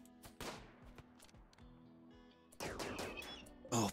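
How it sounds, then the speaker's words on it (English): In the video game RimWorld, faint gunfire sounds as a series of sharp, separate shots, scattered at first and then clustering into quicker bursts toward the end. "You immediately start shooting them."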